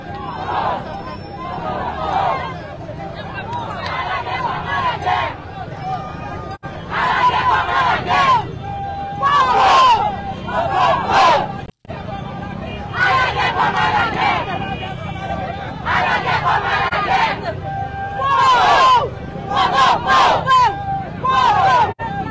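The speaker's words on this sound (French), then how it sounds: "On regarde déplacement foule là" A large crowd moving together during a street confrontation, a dense, continuous roar of many voices with repeated surges of shouting and cries, loud and close, a brief dropout near the middle.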